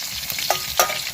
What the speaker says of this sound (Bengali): এই দেখুন এবার আমি ফ্রাইড রাইসগুলো